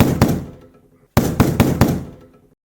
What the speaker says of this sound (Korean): 친구는 갑자기 테이블을 노크하기 시작했어요